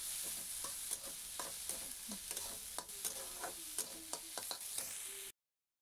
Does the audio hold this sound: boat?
no